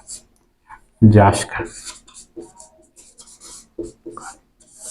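A teacher writes a place name on a board during a geography lesson: short scratchy strokes and taps mixed in with close talking.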